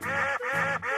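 A loud, close squawking call in the manner of a duck or goose, sounded in two or three harsh, honking bursts that follow quickly on one another. It is likely a voice imitating the bird.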